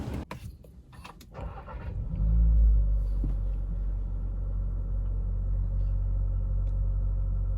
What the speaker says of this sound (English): this is how it sounds on idle